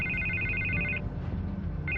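A telephone rings in Batman: The Telltale Series, with repeated electronic ring bursts that stop briefly and then resume over a dense, steady background.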